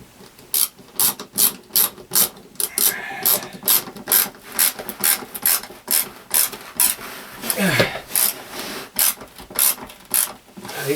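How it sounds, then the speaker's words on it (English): Screws are driven by hand while a composting toilet is installed in an off-grid tiny home, making a close, rhythmic series of ratcheting turns in regular bursts that repeat through the whole stretch. "These screws go in nicely."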